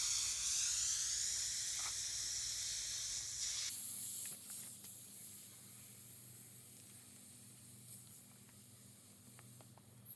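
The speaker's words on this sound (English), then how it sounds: "Now just let the air out" Air hisses steadily out of a tubeless mountain bike tyre's valve after inflation to 60 psi, a loud continuous rush that abruptly drops to a quieter, lingering hiss partway through.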